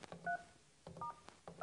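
Keypad tones from a PCS 57x desk phone as an extension number is entered: three separate bursts of paired dual-tone beeps, close and clear, spaced across a quiet background.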